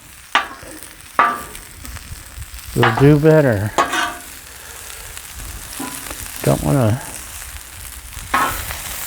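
Vegetables and soba noodles from a Trader Joe's stir fry kit sizzle and fry on a hot Blackstone griddle. A steady hiss runs throughout, broken by occasional scraping and stirring, while a person speaks over the cooking.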